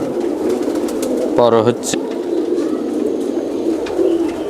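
Soft pigeon cooing from Pakistani Tedi and Kasuri pigeons, mostly a low murmur with a brief clearer call near the middle, heard under a person talking nearby.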